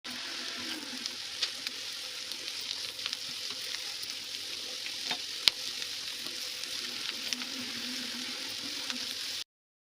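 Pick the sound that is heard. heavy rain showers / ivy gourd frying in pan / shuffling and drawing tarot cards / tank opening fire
ivy gourd frying in pan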